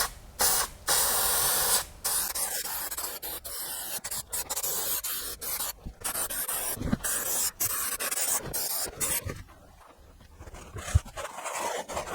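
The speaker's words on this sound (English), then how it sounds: "we better look at this headlining so we can get that sprayed up, let the glue dry" Glue is sprayed onto the headlining of a Mk5 Golf TDI in a series of hissing aerosol bursts of varying length, close by, separated by short pauses and rustling handling noise.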